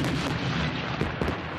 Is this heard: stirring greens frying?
no